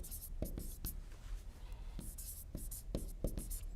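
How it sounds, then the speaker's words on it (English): Chalk or marker taps and strokes on a board come in short, sharp bursts at an irregular rhythm while English sentences are written out. The sound is close and fairly quiet, with soft breathy sounds underneath. "If you like, you can write it like this."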